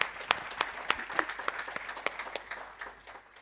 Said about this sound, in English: Let's give her an applause as she comes.